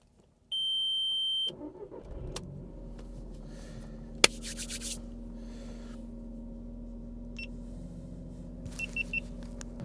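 An old Audi S3 coming to life for a short test drive, with a chime and beeps, then the engine settling into a steady idle and low drone, plus scattered clicks and a few more dash beeps.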